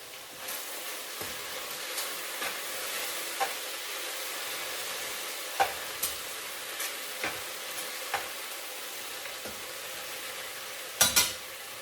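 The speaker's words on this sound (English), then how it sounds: "Let's go over here and mix this stuff up" Smothered okra being stirred in a pot, a soft simmering hiss punctuated by regular spoon scrapes and taps against the pot, with a louder clatter near the end.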